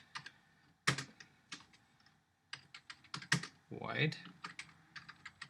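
Keys clatter on a computer keyboard as Java code for a Spring logging aspect is typed, irregular bursts of close, crisp clicks with pauses, while someone speaks briefly.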